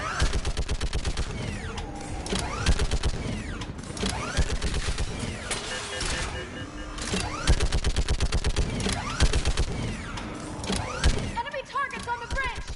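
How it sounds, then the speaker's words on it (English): Rapid gunfire in the video game Mass Effect 3, dense bursts of automatic weapons crackling continuously and loudly with brief lulls, while voices call out over the combat. "Keep firing!"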